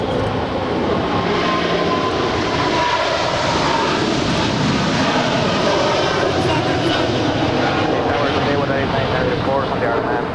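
A heavy airliner passes at Los Angeles International Airport, its jet engines making a loud, steady broadband roar that holds for the whole stretch. A voice talks intermittently over the engine noise.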